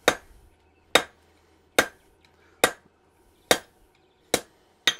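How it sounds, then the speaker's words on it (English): A flat hammer strikes hot steel being forged into a horse head bottle opener, landing six or seven sharp, ringing blows at a steady pace of roughly one per second, close and loud. "I'll go back here with the flat hammer"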